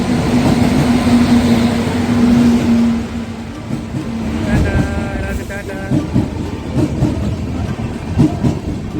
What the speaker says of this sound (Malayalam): കന്യാകുമാരിയിൽ നിന്ന് പൂനെക്ക് പോകുന്ന ട്രെയിനാണ്.